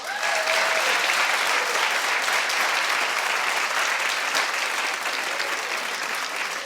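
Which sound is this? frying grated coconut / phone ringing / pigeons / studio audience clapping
studio audience clapping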